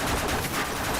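Sustained automatic gunfire from a light machine gun in a video game, a dense continuous rattle filling the whole moment at steady loudness with no talking.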